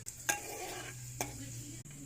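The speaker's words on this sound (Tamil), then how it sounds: "கொஞ்சம் வெந்தயம், இது மிளகு, கொஞ்சம் ஜீரகம், கடுகு, இது நல்லா வதக்கிக்கணும்." Fenugreek, pepper, cumin and mustard seeds sauté in oil in a pan for vatha kuzhambu, giving a soft continuous sizzle with two or three faint scrapes from stirring, heard quietly without talk.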